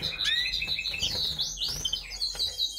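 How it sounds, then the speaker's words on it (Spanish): Linnets at a nest with freshly hatching chicks give thin, high chirps and warbling tweets in quick, overlapping bursts, close and clear, with no talking. "Buenos días, pájaros."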